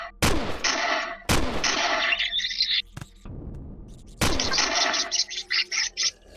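Loud, sharp explosions from the space survival game Empyrion Galactic Survival: several separate blasts, each a sudden broadband burst followed by a roaring, crackling tail, with a final cluster of rapid pops.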